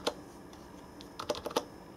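Keys tapped on a Tt eSPORTS Challenger Go gaming keyboard with light, low-travel membrane switches: a single click, then a quick burst of four or five close, crisp clacks.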